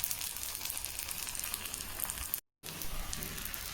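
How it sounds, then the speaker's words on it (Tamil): A badam halwa stuffed poli roasts crisply on a hot pan, giving a steady, close, hissing sizzle throughout with one brief silent break, no talking. "நல்லா ரோஸ்ட் ஆகுது, கிறிஸ்பியாக ரோஸ்ட் ஆகுது"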